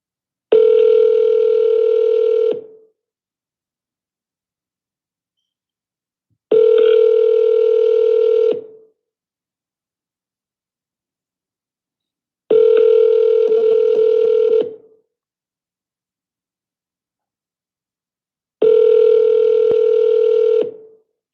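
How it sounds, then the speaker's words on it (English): A telephone ringback tone sounds while a for-sale-by-owner seller is being called, four steady two-second tones separated by long silent gaps, loud and clean with no voices. "Come on, answer the phone."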